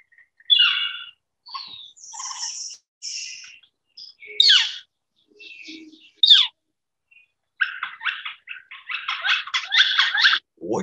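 Scattered high, sharp flicker calls and chirps in short bursts, ending in a rapid run of repeated notes, clear against a quiet background.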